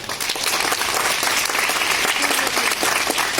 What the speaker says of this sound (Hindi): तो मैं चाहता हूं इन बच्चों के लिए एक बार जोरदार ताली बजाएं